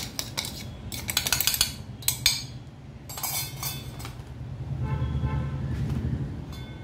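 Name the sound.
sieving ground roasted dal and poha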